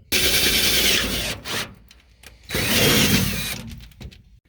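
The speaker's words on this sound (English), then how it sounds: "then drill my larger hole for my bolt" A power drill whines loudly in two long bursts while drilling a bolt hole in a truck bed for a diesel fuel tank, separated by a quieter pause, with a short scrape near the end.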